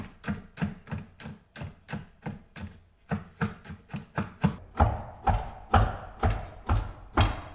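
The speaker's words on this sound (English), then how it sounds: "And then just give it a really good amount of fine slicing." A sharp kitchen knife finely slices garlic on a cutting board in a quick, even run of crisp chops, close up, the strokes growing slightly heavier and louder toward the end.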